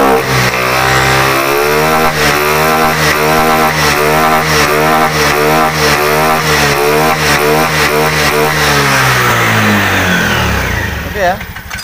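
A Honda BeAT eSP motorcycle engine, after a starting fault is fixed, runs loudly and steadily, revving up and down in rhythmic pulses for several seconds before winding down at the end.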